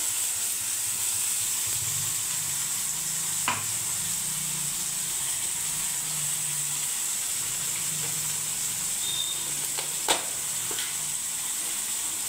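Onion, garlic and tomato mixture sizzling steadily in hot oil in a pan, a continuous close frying hiss with occasional soft stirring clicks and no talk.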